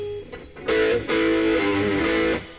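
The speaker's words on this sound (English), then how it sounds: "you can hear that overdrive or distortion, as we call it, beginning to kick in." Electric guitar driven through high-gain overdrive distortion, playing loud sustained chords that cut in abruptly and ring in several bursts, with no voice over it.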